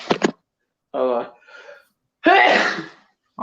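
A person sneezes indoors, a sharp burst at the start and a second louder sneeze later, with brief speech in between during a casual radio-style chat.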